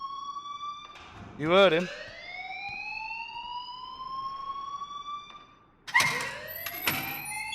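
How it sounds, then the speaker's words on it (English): An alarm ringing in the video game Life Is Strange, a rising siren-like wail with a sharp electronic burst near the start and another near the end, with someone speaking over it. "please turn off that alarm since that's your job."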